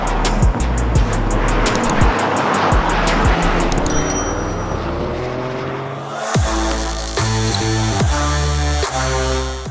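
Toyota GR Corolla pulling a Scandinavian flick on dirt: a loud, close engine revs hard, drops off briefly mid-clip as the car rotates, then climbs again, with tire and gravel noise underneath and no talk.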